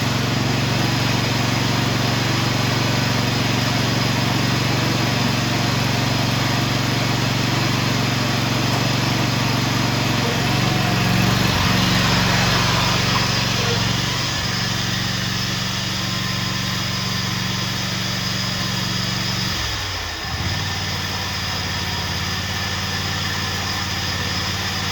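Revived Kubota TG1860G riding lawn mower engine running continuously, a loud, steady near idle with a slight dip in pitch toward the end and no talk.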